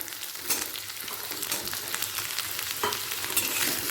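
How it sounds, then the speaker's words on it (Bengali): Steady, close sizzling of drumsticks (moringa) and potatoes frying in a pan over medium flame, with scraping stirs cutting through the crackle; no voices. "ডাঁটা আলুটা তিরিশ সেকেন্ড মতো মিডিয়াম ফ্লেমে ভেজে নেব"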